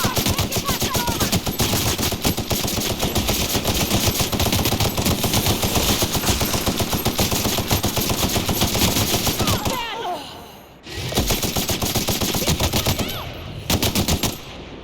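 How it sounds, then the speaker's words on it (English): Gunfire in The Outer Worlds video game, sustained loud automatic bursts and shots overlapping almost continuously, with a brief pause before firing resumes, mixed with faint game voices. "Returning fire!"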